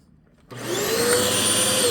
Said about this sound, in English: the loud noise made by the vacuum is the unconditioned stimulus